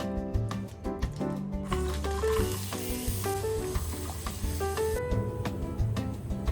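Pieces of beef frying in a pan for nihari: a steady sizzle runs under prominent background music, with occasional small stirring sounds.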